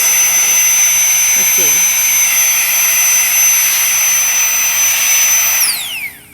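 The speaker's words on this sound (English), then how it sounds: "this will both blow the inner tubes up and suck the air out of them. So it's going to be loud for a second." A rechargeable electric air pump for inflating and deflating inner tubes runs with a loud, steady high-pitched whine and rushing air throughout, winding down at the very end while a voice speaks briefly.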